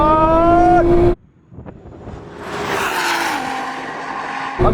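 A drag race launch among a Nissan GT-R, a Porsche 911 Turbo S and a rallycross car: a loud revving engine cuts out, then a rising roar of engine and spinning tyres builds and holds, with another engine surging back at the end.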